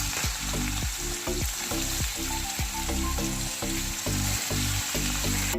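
Ash gourd pieces fry in hot oil with a black cumin tempering for poppy-seed ash gourd bhaja, a steady close sizzle broken by regular, rhythmic spatula strokes against the pan, with no talking.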